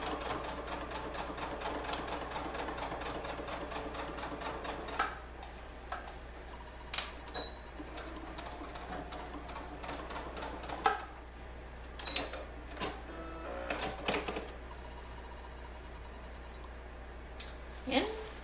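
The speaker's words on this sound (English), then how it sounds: "I'm actually going to back stitch to secure where I was." Sewing machine stitching and back-stitching stretch fabric for ruffled leggings: a fast, even run of needle clatter for several seconds, then scattered short clicks and taps as the fabric is pulled and adjusted, all close and quiet.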